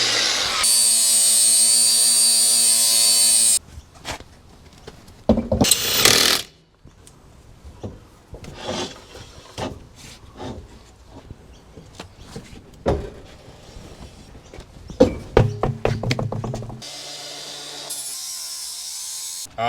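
A wheel arch rolling machine works on the fender of an R33 Nissan Skyline: intermittent mechanical creaks, clicks and grinding bursts, with a high whining tone at the start and end and quiet gaps between strokes.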